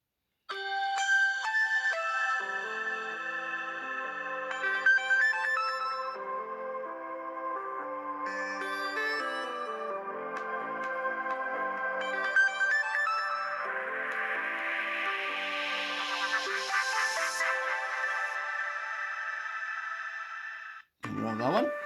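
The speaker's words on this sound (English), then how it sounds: "We want sounds. Ringtones. Start from the top." A run of ZTE Axon M folding smartphone ringtones from 2017 plays one after another: bright melodic electronic tones and chimes, steady and fairly loud, with short switches between tunes and a brief break near the end.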